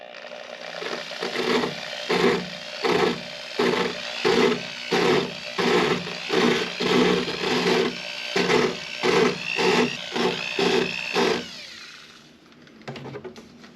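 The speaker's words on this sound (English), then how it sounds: "so I'm going to try this wire brush on the drill" Wire brush spun on a drill at low speed, roughing up fiberglass on sailboat stern steps, giving a close, rhythmic series of about a dozen short scraping bursts that stop near the end.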